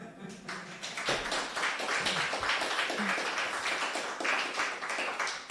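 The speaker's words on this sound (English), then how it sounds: "applause." A room full of people claps together in dense, sustained applause that holds steady for several seconds.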